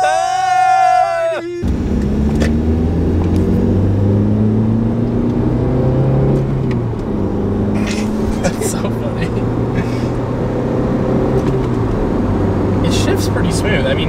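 A car engine droning from inside the cabin while gears are shifted, pitch rising and falling between shifts after a brief high whine at the start, with people talking over it.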